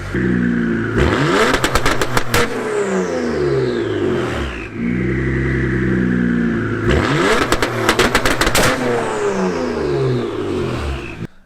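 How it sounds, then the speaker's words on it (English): A BMW 335i with a JB4 tune revs loud and close against a two-step anti-lag limiter in two long bursts, each with a rapid volley of sharp crackling pops before the engine drops back to a steady idle. "we're going to try and two-step, see how it works."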